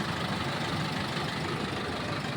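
Steady low diesel idle of a 2023 BS6 Tempo Traveller 12+1 seater with AdBlue, a constant, fairly quiet engine rumble heard alone without any change.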